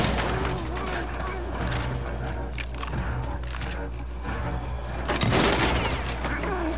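An enemy fires a shotgun in the horror game Little Nightmares II, a few deep booming blasts over a low rumbling backdrop, the loudest one near the end.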